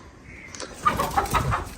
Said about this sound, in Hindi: एक मुर्गी ये भी है हमारे पास, ये भी यहाँ पर बैठी हुई है।